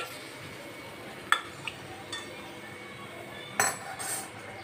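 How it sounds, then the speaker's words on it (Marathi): Fried green chillies lifted from a pan onto a plate, a few faint, sparse metallic clinks and taps of a utensil against cookware in a quiet kitchen. "आता आपण मिरचीला प्लेटमध्ये काढून घेऊया."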